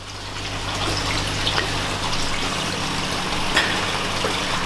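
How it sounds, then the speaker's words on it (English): Steady running and gushing water as a backyard aquaponics grow bed drains into a sump tank, close and continuous with faint splashes throughout. "These 2 beds are currently draining at the moment, as you can see."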